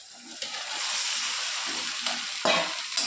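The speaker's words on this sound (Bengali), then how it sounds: "এবার হলুদ দেওয়ার পরে এবার যেটা আমি ম্যারিনেট করা মটনটা এর মধ্যে ঢেলে দিলাম।" Marinated mutton hits turmeric-spiced tomato-onion masala in hot oil with a loud, close, continuous sizzle, punctuated by bursts of spattering and the scrape of stirring.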